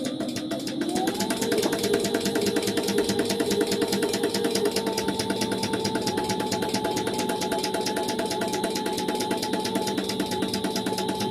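Sewing machine running steadily and continuously, close and fairly loud, while top-stitching a folded quilt binding on a quilted tote bag.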